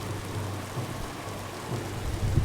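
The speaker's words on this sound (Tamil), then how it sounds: "மழை வேறு பெய்யுது." Steady rain falls in a forest, a dense even hiss of drops on leaves and ground with a low rumble underneath, close and unbroken with no voices.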